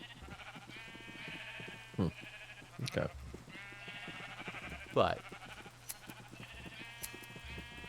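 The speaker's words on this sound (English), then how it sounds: "All these sheep crammed in here, but I need more sheep." Sheep crowded together in the video game Minecraft bleat several times in wavering cries over a steady low hum, and a voice speaks briefly.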